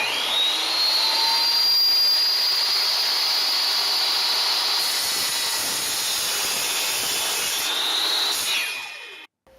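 Lenox 10-inch steel-cutting circular saw blade cutting through angle iron for a welding cart, a loud steady high-pitched whine and rasp that holds for about nine seconds, then winds down and cuts off near the end, with no talking.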